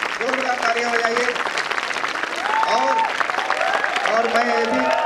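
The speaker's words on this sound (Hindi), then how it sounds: "जोरदार तालियां बजाइए।" An auditorium audience at the closing ceremony of a wellness conference claps in a sustained burst of applause, steady and full throughout, while someone speaks over it on a microphone.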